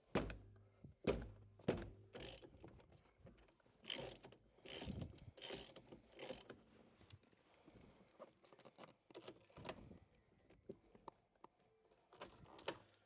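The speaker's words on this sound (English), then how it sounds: "we are looking to undo that bolt" A 1/2-inch-drive ratchet with a size 12 multi-spline bit works loose the steering wheel bolt of an Audi R8. Sharp clicks and clunks land in uneven bursts, then quieter fiddling follows.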